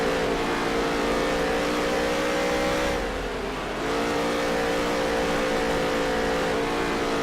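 Stock cars racing in a tight pack on the Eldora dirt track in NASCAR Heat 3, a steady loud engine drone with layered revving tones that dip briefly before surging again, no talk.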